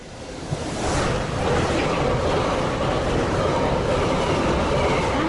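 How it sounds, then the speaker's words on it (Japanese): A train rushing through a Japanese railway station on track 3 without stopping, a broad rumbling roar that swells within the first second and holds steady and loud to the end, with no talk over it. "3番線、列車が通過いたします。"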